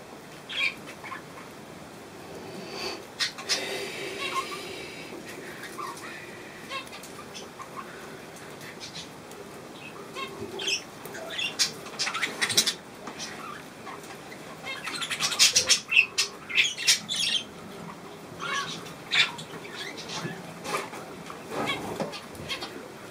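Small birds flutter and chirp around a feeder during a millet breakfast, with scattered wing flaps and high chirps growing busier toward the middle, close by and without talk.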